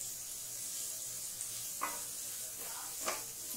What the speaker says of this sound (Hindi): इसे हम तेल में ऐसे छोड़ देंगे और इसे हम मीडियम फ्लेम पे ब्राउन होने तक भूनेंगे।